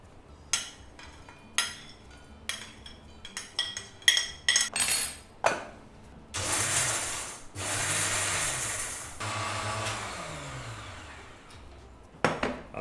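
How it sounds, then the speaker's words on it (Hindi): Raw turmeric being ground for panjiri in a kitchen blender or grinder: loud bursts of whirring motor run in several pulses, preceded by clinks of spoons and utensils, close up with no talking. "ये जो हल्दी है इसको पीस लेते हैं"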